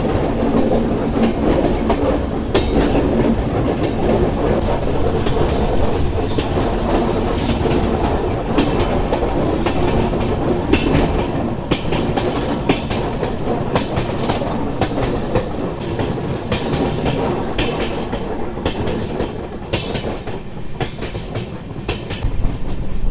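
A passenger train rolls steadily across a bridge on the Sairang to Bairabi line in Mizoram, its dense rumble and rhythmic clickety-clack of wheels carrying loud and unbroken throughout.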